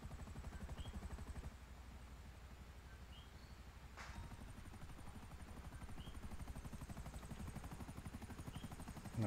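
A helicopter in the video game GTA Online flies with a continuous rhythmic rotor chop throughout, steady and fairly faint, with a brief sharp crack partway through.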